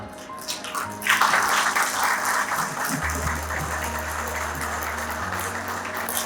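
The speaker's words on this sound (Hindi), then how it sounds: "एक बार जोरदार तालियों द्वारा उनका अभिनंदन करते हैं" Applause from a crowded audience welcoming a dignitary at a public gathering, a dense steady clapping that swells after the first second and holds loud and continuous, with a low hum running underneath.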